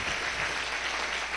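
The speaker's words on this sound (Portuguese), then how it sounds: "Dá um aplauso aí" Church congregation applauding during a sermon, a brief steady wash of clapping heard from a distance without distinct individual claps.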